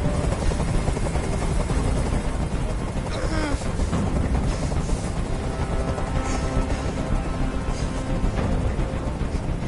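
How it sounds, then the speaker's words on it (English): A loud, continuous helicopter drone with rapid rotor chop in Detroit: Become Human, steady throughout and close by, with no pauses. "Tell that helicopter to get out of here!"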